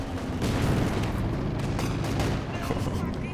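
Bunker busting barrage artillery in Company of Heroes 2 pounds away in a dense run of overlapping booms and blasts, loud and continuous, easing slightly toward the end.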